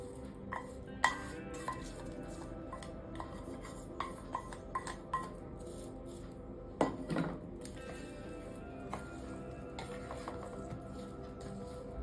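Kachchhi dhokla (patudi) steamed in a pressure cooker, with a curry-leaf tempering poured over and mixed in: soft scraping and clinks of a spoon against a steel vessel, scattered taps with a louder knock midway, fairly quiet throughout.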